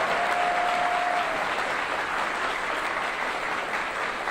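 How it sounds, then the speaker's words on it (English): Dense, steady applause fills the room from a conference audience honoring Governor Scott Walker at a Catholic University campus event, loud and continuous with a brief tonal whistle near the start. "So let's start by giving him a round of applause for sponsoring all of this."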